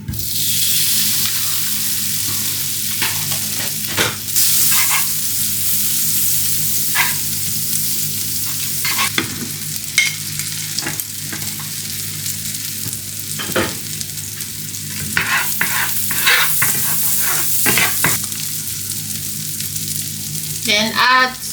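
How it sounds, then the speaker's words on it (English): Butter and margarine fry in a pan with a steady bright sizzle, broken again and again by scraping and knocking as the fat is stirred. "So now I'm gonna add some butter, margarine, in the fry pan."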